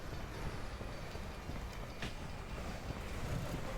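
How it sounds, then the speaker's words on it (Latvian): A train rumbles past in a video game, a steady, dense low roar with rail clatter holding at an even loudness throughout, with no voices over it. "Notriec vilciens tikko"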